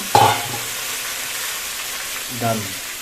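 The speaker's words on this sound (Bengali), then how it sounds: "এইবার আমি আলু দিয়ে পেঁয়াজ ভেজে নেব" Potatoes and onions frying together in a pan for an aloo rui fish curry, with a spatula scrape at the start and another near the end over a continuous loud sizzle, close up and without talk.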